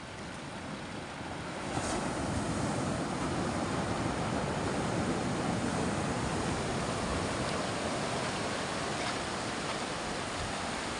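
Big sea waves roll and surge around a small boat made of EVA foam fitted with a Tohatsu 9.8 hp outboard, a loud, steady wash of surf and wind noise after a quieter first two seconds.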